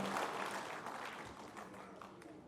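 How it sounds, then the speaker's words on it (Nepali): Audience applause at a Nepali public event with the Prime Minister, a broad steady clapping that holds fairly even and slowly thins toward the end, moderately loud. "यति लामो ताली पाउनुभएको छ"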